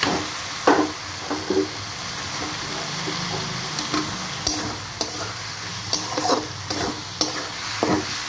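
Potato and pointed gourd pieces being stirred and fried in spices for a vegetarian paneer curry: a steady sizzle under repeated scraping and clacking strokes of a spoon against the pan, close and moderately loud.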